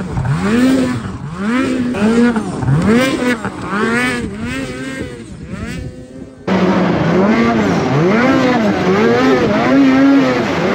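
A vehicle fitted with a Straightline Performance ultra-light or lightweight muffler idles and revs on a stand over blacktop, its exhaust rising and falling in repeated swells, loud and close throughout.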